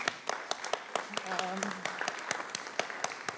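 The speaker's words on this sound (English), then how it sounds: "So I'm going to clap again for you." Applause from a school committee meeting audience honoring retirees, a sparse run of claps with a voice talking over them partway through.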